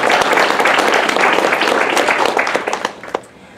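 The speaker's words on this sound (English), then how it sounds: "let's just give a round of applause to all the candidates up here" An audience at a district candidate forum applauds the candidates, a dense wash of clapping that holds steady and then thins and fades out near the end.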